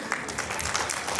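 Short burst of audience applause for dancers at a community association event, a steady patter of many hands clapping at moderate distance.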